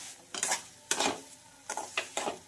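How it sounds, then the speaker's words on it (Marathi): A spoon scrapes and stirs semolina (rava) roasting dry in a pan, four distinct rhythmic gritty scraping strokes up close, with no voices. "रवा भाजताना त्याला सारखं हलवत राहा म्हणजे रवा जळणार नाही"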